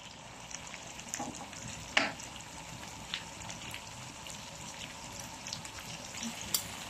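Shrimp frying in oil for gambas al ajillo, a steady soft sizzle with a few sharper pops and crackles throughout, fairly quiet and close, with no voices.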